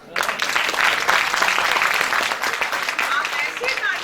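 A crowd claps steadily, a dense, sustained wash of applause from many hands that holds at full strength for several seconds.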